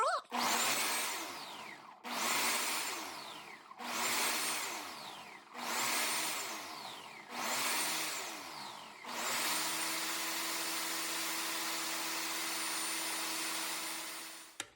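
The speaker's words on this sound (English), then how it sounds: "so let's go ahead and blend the squash" A blender purees cooked squash with vegetable stock in five pulsed bursts that each rise and fall, then one long steady whir, loud and close with no talk.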